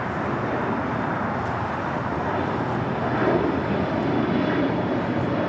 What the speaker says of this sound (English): This is Turkish Airlines Flight 180 getting ready to take off to Istanbul.